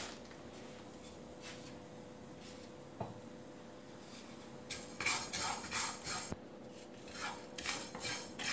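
Three tablespoons of sesame seeds roast in a pan while a spatula stirs them, giving quiet, intermittent scraping and light metallic clinks with a few sharper taps, close and with no talking.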